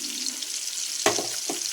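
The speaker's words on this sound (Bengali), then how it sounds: "এবার মাছ ভাজাটা শুরু করে দিয়েছি এখানে মাছ ভাজা দিয়ে দিয়েছি" Fish fries in a pan with a continuous, close, high-pitched hiss of oil, broken by a couple of brief spattering pops.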